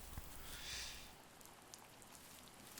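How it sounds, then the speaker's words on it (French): Faint, steady video game rain hiss with occasional drops pattering, quiet and continuous throughout. "On entend juste un peu limite vent et enfin, surtout la pluie et les pas."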